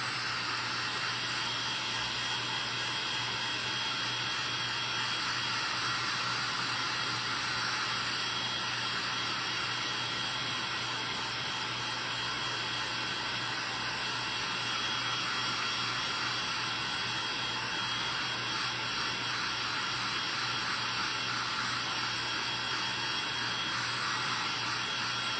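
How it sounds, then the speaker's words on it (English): A heat gun or hair-dryer-style blower runs steadily and loudly at close range, a continuous broadband whoosh drying freshly screen-printed ink on a tea towel, with no talk over it. "let's see if this is not quite dry yet. So we're gonna dry it a little bit more."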